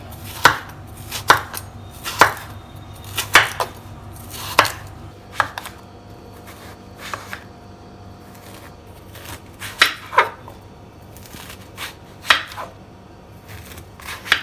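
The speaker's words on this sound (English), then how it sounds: "Chop up the kaddu." Pumpkin (kaddu) with its skin and seeds chopped by knife on a board, loud close thuds in quick irregular bursts separated by short pauses.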